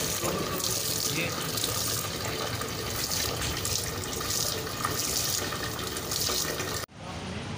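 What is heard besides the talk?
water being poured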